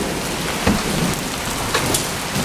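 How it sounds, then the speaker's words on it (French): A dense, loud patter of hailstones striking surfaces continuously, with a few sharper impacts standing out. "La grêle, la grêle. La grêle 2017."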